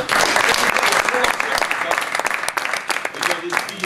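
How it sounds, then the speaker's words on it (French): An audience applauds at an evening of mountaineering and alpine expedition films, dense clapping holding steady for several seconds with a voice talking over it. "Je pense qu'on peut l'applaudir hein, parce que c'est vrai que ça fait plaisir."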